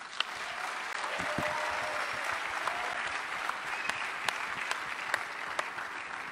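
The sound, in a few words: audience applauding loudly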